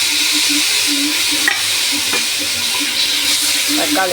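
Tomatoes sautéing in a pan on a home kitchen stove give a steady, close sizzle with occasional stirring scrapes and clinks, continuous throughout.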